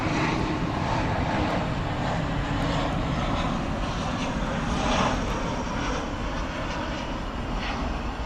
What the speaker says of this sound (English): it was American 1711 coming in from San Francisco on Airbus A321